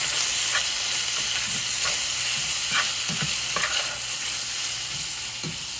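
Bacon frying in a pan for a bacon mushroom chicken chili gives a continuous bright sizzle and hiss, close and steady, with faint occasional clicks and pops.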